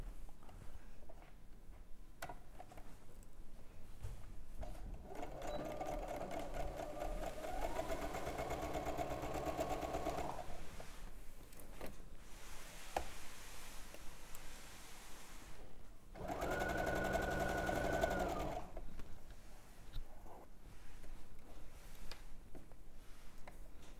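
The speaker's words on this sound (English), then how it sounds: "you're going to stitch up the side seam and then go all the way down through your sleeve and all the way down to the edge" Domestic sewing machine stitching a dress side seam down through the sleeve, running in two long whirring bursts of steady rhythmic stitching with a pause between, close and moderately quiet, with no talk.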